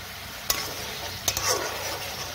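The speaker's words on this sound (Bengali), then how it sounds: "ভালো করে মশলাটাকে আমি টমেটোর সাথে ভালো করে ভেজে নেব।" Spice paste and tomato fry in hot oil for a rohu fish curry, a steady close sizzle broken by a couple of scraping stirs of the spatula.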